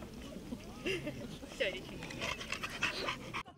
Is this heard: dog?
yes